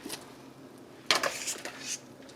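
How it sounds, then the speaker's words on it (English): Spaghetti for carbonara is dropped into a pot, followed by a brief cluster of metallic clatters and clinks against the pot, close but fairly soft in a kitchen. "Okay, now I'm gonna put inside pot there."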